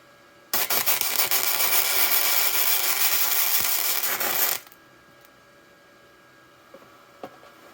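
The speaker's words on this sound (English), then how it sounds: "Hit a little butt weld and see what happens." An ArcCaptain MIG130 flux core welder lays a butt weld joining two pieces of metal: one steady, loud crackling hiss of about four seconds, then an abrupt stop leaving near silence with a couple of faint ticks.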